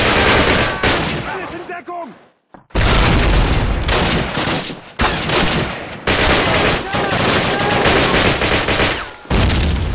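Loud, dense gunfire and explosive booms from Call of Duty fill the clip almost continuously, with one brief pause, a grenade blast among the barrage and a player talking in Hindi.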